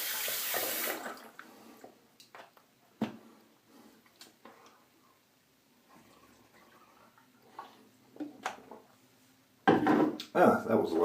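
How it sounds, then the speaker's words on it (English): Cold water spills and splashes from a knocked-over sippy cup during a wet shave, a short splash at the start and a louder splashing burst near the end, with scattered small clatters between. "Knocked over my sippy cup."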